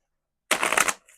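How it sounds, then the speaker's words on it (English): Single quick riffle of a deck of tarot cards, a short crisp burst of flapping lasting under half a second, close and alone, followed by a faint soft rustle. "I'm just sitting there shuffling cards."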